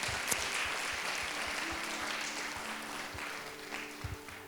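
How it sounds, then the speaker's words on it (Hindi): Clapping from a church congregation at a Sunday service, a dense, fairly soft patter of many hands with a few sharper claps standing out, and faint voices in the background. "ताली बजाकर प्रभु की महिमा करेंगे।"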